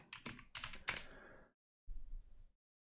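Close, quiet typing on a computer keyboard: a quick run of key clicks, then silence, then a short second burst of light tapping.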